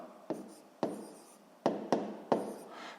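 Someone writes a math equation by hand: a few quiet, close taps and scratchy strokes of a pen or chalk spaced irregularly over a few seconds, with no speech.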